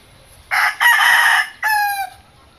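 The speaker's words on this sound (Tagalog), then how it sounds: "mga manok ko na yan" A backyard stag rooster crows loudly and close, one drawn-out call in two rising sections followed by a shorter strained crow, against a quiet background.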